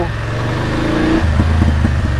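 A BMW F850 GS motorcycle engine, close and loud, holding a steady drone before dropping into a deeper, pulsing rev with rhythmic throttle bursts, no speech.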